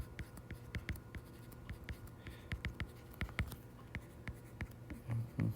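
Pen writing on paper, close and quiet, with a rapid irregular series of short scratchy strokes and taps, and a brief low murmur near the end.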